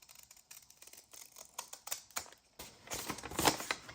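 Scissors cutting through folded paper to shape round edges, a close series of quick crisp snips that speeds up and grows louder toward the end.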